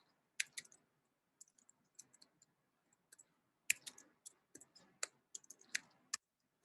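Computer mouse clicking while ordering lab supplies online, sharp, close, isolated clicks in irregular bursts, some single and some quick doubles, against a quiet room.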